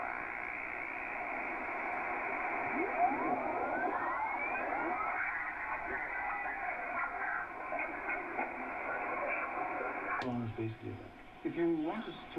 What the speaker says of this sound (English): That's an AM station that was playing.